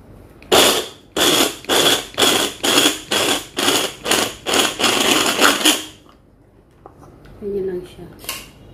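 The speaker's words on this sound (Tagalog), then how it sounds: "Lagyan natin sa food processor." Food processor chopping garlic for a makdous eggplant appetiser, running in about ten loud rhythmic pulses, then stopping, followed by a brief clink near the end.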